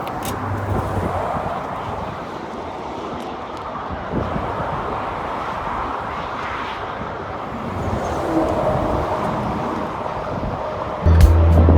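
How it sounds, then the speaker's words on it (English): Constant traffic noise from cars crossing a bridge, a broad steady roar with swells as vehicles pass, continuous and fairly loud, ending with a low thump. "There's a lot of traffic right now, so mind the back noise of all the cars."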